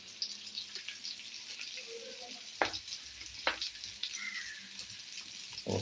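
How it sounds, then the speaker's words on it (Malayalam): Hot oil sizzles in a pan as mustard seeds fry for a lentil curry, giving a soft, continuous hiss broken by a few sharp pops and clicks, close by and with no voices. "നമുക്ക് എണ്ണ ഒഴിച്ചു കൊടുക്കാം നമുക്ക് കടുക് വറുക്കാൻ വേണ്ടിയാണ്"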